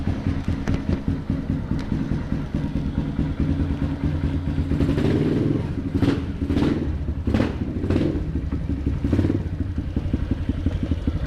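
A KTM motorcycle with a swing arm and a DTracker Norifumi Evo stainless exhaust rides along, its engine running steady and close with a rough, clattering note and several short throttle blips toward the end.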